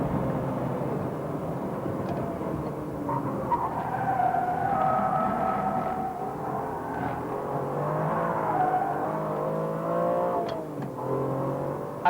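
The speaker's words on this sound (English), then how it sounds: "I'm braking heavily now, watch the dice go forward." A Formula One car under heavy braking gives a sustained engine and drivetrain whine with tones shifting and sliding downward, heard from onboard, steady and loud throughout.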